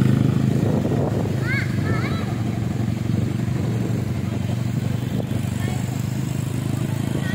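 A motorcycle engine runs at Mliwis beach in Kebumen, a steady low droning hum close by throughout, with people talking over it.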